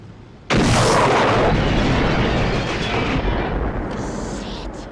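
A rocket launcher blast from the action film Commando erupts suddenly as one loud, booming explosion, then rolls on in a long rumbling decay that slowly fades.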